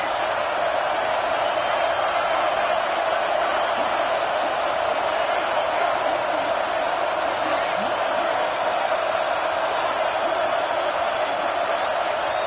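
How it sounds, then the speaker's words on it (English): Home stadium crowd of Ohio State Buckeyes fans roars on third down in a simulated college football video game, a steady, dense wash of cheering that holds without a break. "The Buckeye crowd alive on third down."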